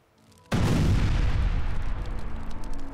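A sudden heavy explosion in war after a short quiet moment, a loud close boom whose rumbling, crackling aftermath slowly decays over several seconds.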